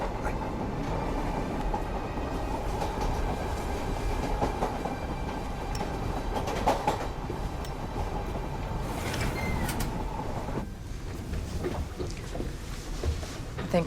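A train rumbles steadily along the rails with a continuous rolling roar and faint rhythmic clatter, heard from inside, with a few indistinct voices underneath.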